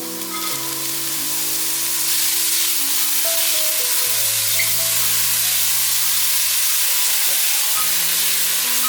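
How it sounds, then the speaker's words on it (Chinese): King oyster mushrooms stir-fry in a wok of hot oil with minced ginger, a loud, continuous sizzle and hiss close by, over soft background music, with no voices. "大约炒了2分钟"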